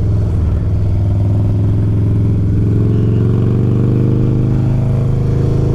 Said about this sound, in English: There's another Harley.